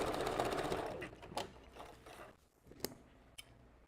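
A sewing machine stitches and backstitches a custom glueless wig. It runs in a dense, steady whir for about a second, then trails off into quieter mechanical hum with a few sharp clicks.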